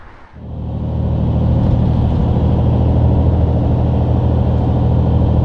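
A truck with a DT12 transmission pulling uphill in 9th gear at about 1600 RPM: a deep, steady engine drone that swells within the first second, then holds loud and constant with no talking.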